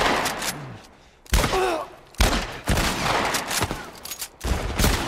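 Gunshots in The Last of Us video game: several sharp, loud cracks spaced a second or so apart, each with a short echoing tail, over a quiet background with a brief voice between shots.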